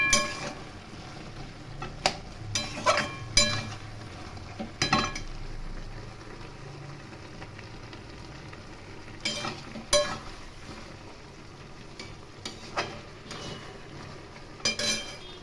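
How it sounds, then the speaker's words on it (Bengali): Bengali-style mixed vegetable curry stirred in a pan, with repeated close metallic clinks and scrapes of a spoon against the pan in irregular bursts over a soft, low sizzle; no talking. "খুব ভালো করে নেড়ে দিতে হবে।"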